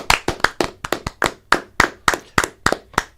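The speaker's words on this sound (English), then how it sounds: "Round of applause for Kinfolk and for Deion Sanders." A few people in a sports talk studio clap in sharp, separate bursts, about a dozen distinct claps close to the microphone, with no voices over them.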